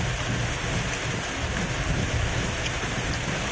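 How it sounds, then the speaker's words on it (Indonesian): Rain pours in a dense, steady hiss with a low rumbling undertone, constant and loud from start to finish with no voices. "oh, hujan."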